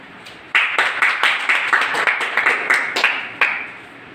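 A seminar audience in Jaipur breaks into applause for two honored guests, with a dense, steady patter of many hands clapping together, loud and close, with no talking over it.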